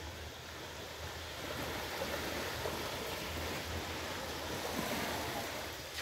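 Ocean waves wash onto Đầm Trầu beach on Côn Đảo, a soft, continuous broadband surf hiss that swells slightly midway, steady and moderately distant, with no voices present.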